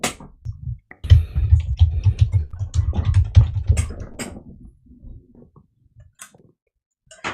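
Rapid, uneven clatter of keys on a computer keyboard, fairly close and muffled, in a dense burst for about four seconds before thinning into scattered taps and then near quiet.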